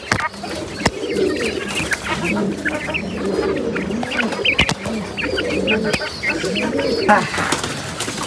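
Pigeons and quail in a coop coo and cluck continuously at close range, a steady layered flock chatter with a few sharp knocks, and a faint voice now and then.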